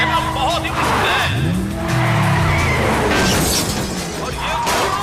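Cars racing in an action film scene, with a loud tire squeal and skid sweeping through the middle, engine roar and a sharp crash-like burst, all under excited shouting voices.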